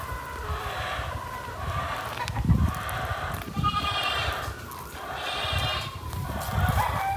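Goats bleat on a farm in repeated calls at close range over steady background noise, with other farm animal sounds mixed in.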